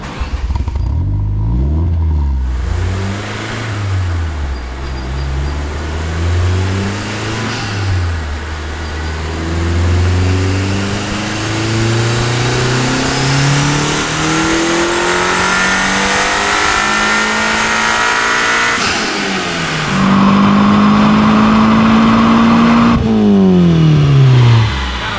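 A $1500 Mitsubishi Eclipse on a dyno in third gear, its engine revving in long rising sweeps with droning exhaust, loud and close, then dropping off before a brief higher rev at the end.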